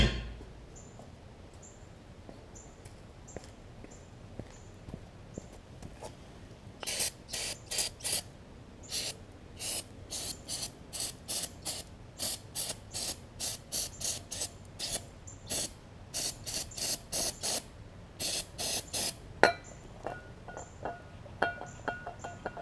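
Brake cleaner sprays under the deck of a Yard Man OHV big-wheel push mower, heard as a long run of short, sharp hissing bursts, close and clear above a quiet background.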